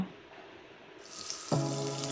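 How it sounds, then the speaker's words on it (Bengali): Ivy gourd pieces fry in a small wok, with a close, steady sizzle that swells midway and then settles into a louder, even hiss. "এবার কুঁদরিগুলোকে ছোট কড়াইতে ভেজে নেব"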